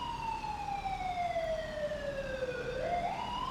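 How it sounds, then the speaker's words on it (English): A wailing emergency siren from a new fire truck and ambulance in GTA 5 sweeps steadily downward in pitch, then rises again at the end, heard at moderate distance over a low road rumble. "there's the fire department in the new fire truck with the new ambulance responding also"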